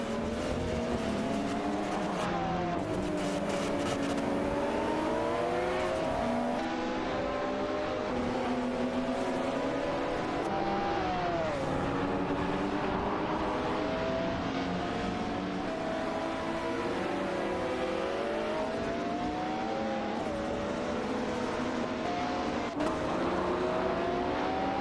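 Several race cars in an AI racing video game roar and overtake one another, engine pitches climbing and falling as they jockey for position, a continuous loud whine of multiple engines with no talk.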